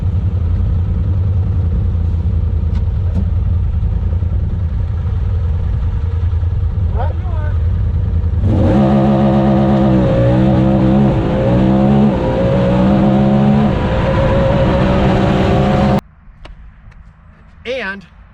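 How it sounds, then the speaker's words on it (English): A Honda Talon 1000R engine idles loudly, then revs hard and bounces repeatedly off the rev limiter in a stuttering, pulsing burst before cutting back to quiet. "You can bounce this thing right off the rev limiter."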